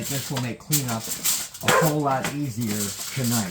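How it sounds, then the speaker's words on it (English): A resort guard dog barks now and then in the background while a person talks over it near the camera at an outdoor cooking spot. "You can hear the resort guard dog in the background."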